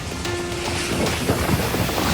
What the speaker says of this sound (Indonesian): Inilah detik-detik video angin puting beliung menerjang permukiman warga